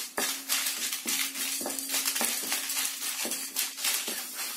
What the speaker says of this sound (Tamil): இந்த மசாலா பொருளை எல்லாம் ஸ்டவ் மீடியம் ஹீட்ல வச்சு நல்லா வாசம் வர அளவுக்கு வறுத்துடுங்க